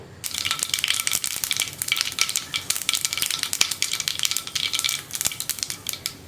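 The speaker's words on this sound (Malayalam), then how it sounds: "ഇപ്പോൾ വെളിച്ചെണ്ണ ചൂടായിട്ടുണ്ട് നമുക്കിതിലേക്ക് കടുക് ചേർക്കാം" Rapid, dense crackling and popping pours out continuously, a bright spattering sound of half a teaspoon of mustard seeds bursting in hot coconut oil.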